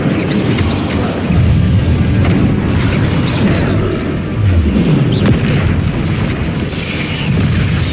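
Incendio fire spells blast repeatedly in the Hogwarts Legacy video game: loud, booming bursts with rushing, crackling whooshes, one explosion rolling into the next across the whole stretch with no pauses.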